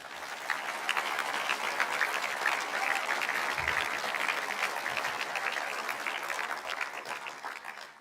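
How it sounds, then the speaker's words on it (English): Applause at a high school graduation ceremony, a broad, sustained round of clapping from a large audience that swells quickly and tapers off toward the end. "I think they all deserve a round of applause."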